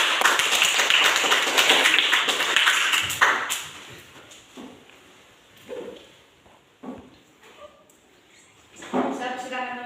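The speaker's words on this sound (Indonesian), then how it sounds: "Tepuk tangan dulu." Classmates in a classroom clap together in a short burst of dense, close applause that fades into scattered claps and taps, with a voice speaking briefly near the end.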